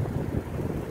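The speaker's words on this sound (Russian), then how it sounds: "ветер с залива гонит в обратную сторону" Wind off the Gulf of Finland blows over the Neva River on a January night, a steady low buffeting rumble against the microphone, with no voices.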